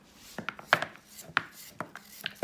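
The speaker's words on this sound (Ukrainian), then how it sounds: "Зараз наріжу картоплі, цибулі, перцю." A knife chops potatoes, onions and peppers on a cutting board, giving a close, irregular series of sharp, crisp chops with quiet gaps between them.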